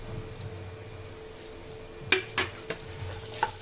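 Chopped dry fruits fry in ghee in a thick pan over medium flame, a low steady sizzle close by, broken late by a few sharp spoon clinks against the metal.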